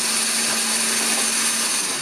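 A robot intake prototype runs during a build test, giving a steady, loud mechanical whir with a constant hum throughout, close and uninterrupted.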